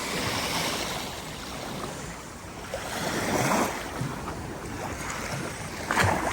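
Sea water washes up an old slipway beside a groyne on a foggy night on the Cromer and Overstrand coast at high tide, a steady broadband wash with gentle swells and surges, roughened by wind noise.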